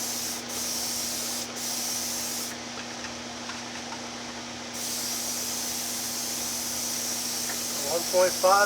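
A Black Widow airbrush sprays enamel paint with a continuous close hiss that briefly thins in the middle before resuming at full strength, with faint clatter near the end.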